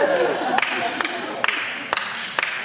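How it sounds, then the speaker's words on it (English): An audience doing a slow clap at a tribal gathering: sharp, evenly spaced single claps roughly every half second, rising slightly in pace, with a voice talking faintly underneath. "we do a slow clap for everybody"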